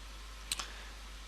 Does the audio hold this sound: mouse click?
yes